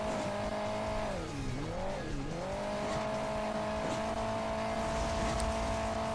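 Car engine in Hill Climb Racing 2 drones steadily and close up, its pitch dipping and swooping twice as the vehicle fishtails, with faint tire scrubbing underneath.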